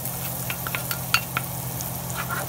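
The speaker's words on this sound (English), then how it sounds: "Just gonna stir the flour around a little bit to get the flour taste out of it." Flour being stirred into browned butter and garlic in a pan, a low sizzle under a few soft scraping strokes of the spoon, close and brief.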